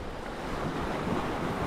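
Big ocean waves surge in a steady, loud wash of surf heard from a boat on a fishing trip, mixed with buffeting wind noise, with no voices.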